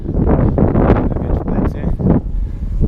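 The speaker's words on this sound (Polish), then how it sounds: "Wiatr w twarz." Strong wind buffets the microphone in a steady, loud roar with gusty surges throughout.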